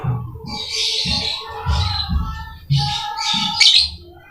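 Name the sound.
lovebird chirping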